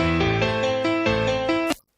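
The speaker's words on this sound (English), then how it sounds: "this is a really easy to use multi-band compressor" Dense full-band music mix processed through a free multi-band compressor plugin set up as an EQ with the lows turned down, playing steadily and loudly without talk before cutting off abruptly near the end.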